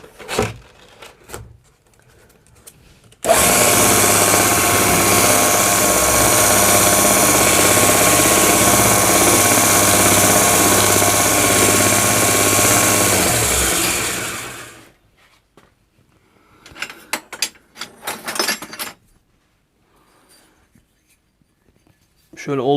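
A homemade two-pulley belt sander whirs loudly and steadily for about ten seconds, then winds down; clattering handling noises come before and after.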